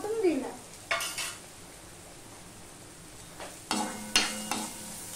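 Spices with Kashmiri chili powder stir-fried in a pan, with a spoon scraping in a few separate bursts over a low, steady sizzle, close by, no talk.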